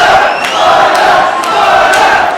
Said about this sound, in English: As the crowd now start to chant Woodruff's name